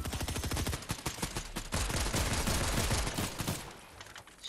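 Dense, rapid gunfire from a squad shooter video game rattles almost continuously, many overlapping shots in a loud fusillade that eases slightly near the end.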